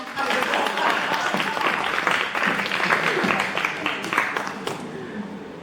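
An audience applauds after a dance team's performance at a critique session, with steady clapping throughout that fades toward the end. No one speaks over it.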